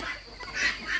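Chickens on a rural farm give short clucks and squawks close by during a brief moment, with no talking.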